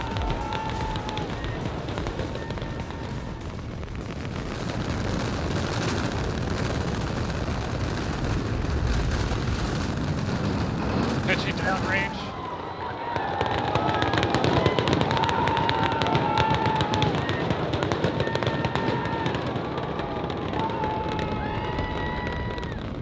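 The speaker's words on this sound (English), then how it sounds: "We have liftoff." Rocket liftoff as engines ignite at launch, a massive continuous roaring crackle filling the clip, dropping briefly midway before resuming with faint voice communications heard over it.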